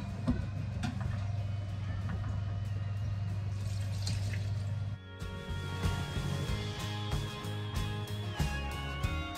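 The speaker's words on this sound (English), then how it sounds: "I'm gonna carefully dish all this very hot tallow through the strainer and through the cheesecloth." Very hot rendered beef tallow is ladled through a strainer and cheesecloth, giving a steady liquid pouring and trickling sound with small drips and clinks, close by and without talk.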